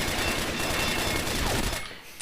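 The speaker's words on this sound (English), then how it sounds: "MP7 MOD, possibly my favourite SMG." An MP7 MOD submachine gun fires in a video game, a dense, continuous burst of rapid automatic shots that stays loud and steady for about two seconds before cutting off.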